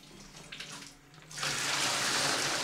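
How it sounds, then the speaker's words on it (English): A hot water tap in a laundry room is turned on and runs in a steady rushing stream into a sink, preceded by faint handling noises, close and clear. "let's turn on the hot water to help dissolve that"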